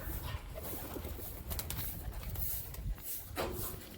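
Pigeons cooing softly around a loft, low murmuring calls repeating steadily with some faint wing or background rustle, no speech.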